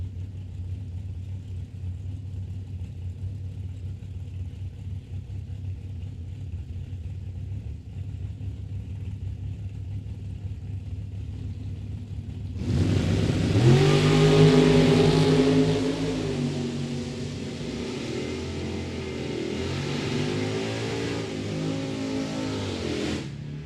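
Drag race cars at Mid Michigan Motorplex, with a Camaro in the right lane. A low idling rumble runs for a long stretch, then a loud roar erupts as the cars launch, engines climbing in pitch before easing off into a fading drone.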